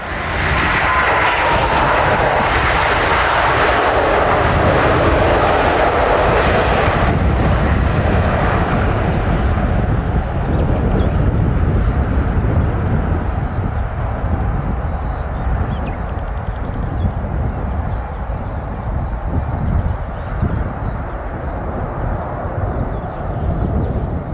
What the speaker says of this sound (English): This Airbus A350 is struggling to take off with only one of its engines.